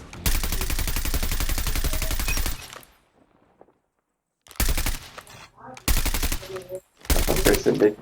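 Loud bursts of rapid automatic gunfire from a video game shooting range, heard through wireless earbuds, a long volley followed by silence, then three shorter bursts.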